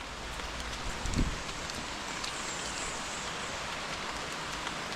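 Steady rain patters softly on leaves and ground during a hike through the forest in Martinique, a faint, even hiss with a brief rustle near the start.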